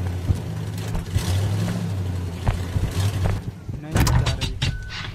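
A truck engine in the video game Human Fall Flat drones and revs steadily, loud and close, with brief thumps and a surge near the end, while players talk over it.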